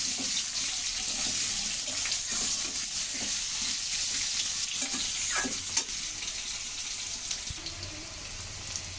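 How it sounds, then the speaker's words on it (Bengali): Vegetables including kohlrabi and potato frying in a pan, a continuous loud sizzle with scraping stirring strokes and occasional clinks, heard up close without talk. "বন্ধুরা একে একে তরকারি দিয়ে ভাজতে থাকবে"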